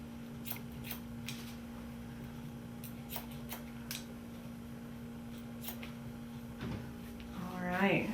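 Scissors cutting a man's medium-length hair give several quick, close snips in brief bursts over a steady low hum, with a voice speaking between the cuts.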